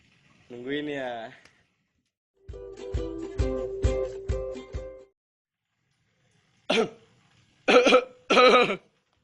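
Several separate coughs and throat-clearing bursts come close to the microphone, some in quick clusters, with pauses between them and voice-like tones mixed in.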